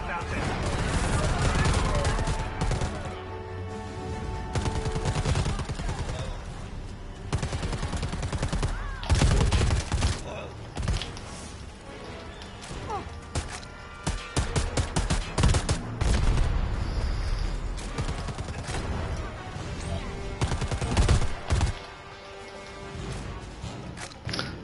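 Rapid gunfire from the video game Predator: Hunting Grounds, with bursts of automatic fire and single shots crackling almost continuously, loud and close, while a player talks over it now and then.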